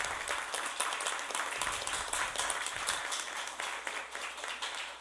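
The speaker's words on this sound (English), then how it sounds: "I want everybody in the room to give these young adults a round of applause for being here." A room of people at a meeting gives a sustained round of applause, dense clapping throughout with no talk over it.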